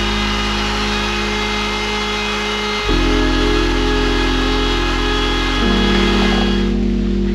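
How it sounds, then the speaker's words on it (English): Handheld router rounding the edge of a wooden shelf for a Ford Transit van, a loud steady motor whine that shifts pitch twice as the bit bites into the wood, close up with no voices. "take the routing tool and soften that edge, curve it a little"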